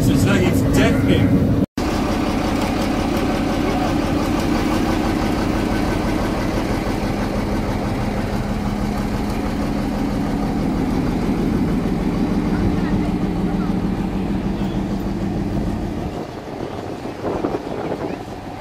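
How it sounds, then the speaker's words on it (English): A railway vehicle on the Eden Valley Railway, fitted with a big V-twin engine and silencers, runs with a loud, continuous, deep rumble. It is heard nearby and steady for most of the stretch before it eases near the end. "It's like got this big V-twin engine on it and all silencers."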